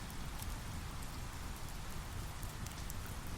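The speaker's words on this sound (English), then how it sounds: "The rain is heavy now, sheets of sparkling droplets forming" Heavy rain pours steadily through a forest near a waterfall, a dense, even hiss of drops with no pauses, moderately quiet and constant throughout.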